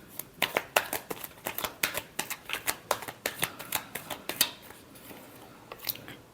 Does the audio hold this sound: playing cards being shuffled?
yes